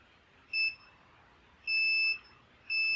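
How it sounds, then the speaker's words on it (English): A multimeter sounds continuity-test beeps on the electrical wiring of a DeWalt radial arm saw being restored: three clear electronic tones, a short one then two longer ones, separated by quiet pauses, with no speech. "I'm gonna do a continuity test and see what it is."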